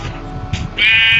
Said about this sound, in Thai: นี่เสียงแกะชุกชุม